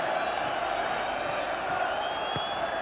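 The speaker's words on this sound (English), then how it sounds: "the Rangers fans cheering their team on to the very last year" Rangers football supporters roar from the stands during a 1992-93 Champions League match against Club Brugge, a steady, dense crowd din filling the stadium with no breaks across the whole stretch.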